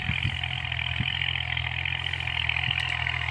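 A farm tractor engine runs steadily in a dry rice field, a constant low drone with a strong midrange hum, fairly close and alone without talk.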